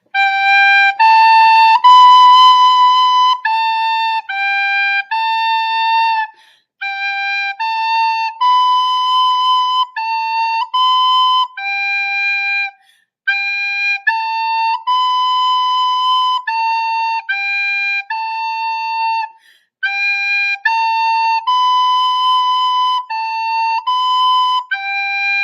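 A recorder plays a simple melody slowly in sustained clear notes with brief pauses between phrases, bright and close.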